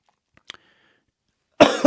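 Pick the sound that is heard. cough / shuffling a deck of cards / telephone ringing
cough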